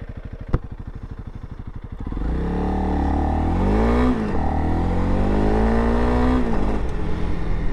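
A 2021 Honda CRF300L dual-sport motorcycle cranks with a fast rhythmic ticking, then fires up into a loud, close engine drone that rises and revs steadily before riding off-road.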